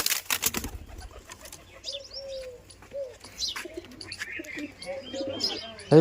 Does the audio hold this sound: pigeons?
yes